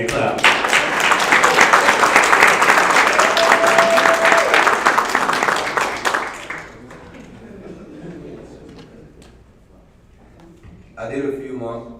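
A crowd claps for a graduate at the Pitt County RRS graduation, loud dense applause for about six seconds that fades to near quiet, then a voice speaks briefly near the end.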